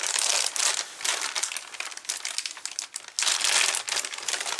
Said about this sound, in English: Right, plastic bag, we don't need that in that box,